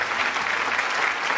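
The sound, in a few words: audience applause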